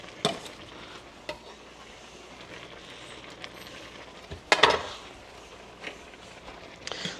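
Ginger and garlic stirred into a pot of simmering spicy ramen soup, heard as soft, faint swishing and bubbling with a few sharp clinks of a utensil against the pot, close and quiet, without talking.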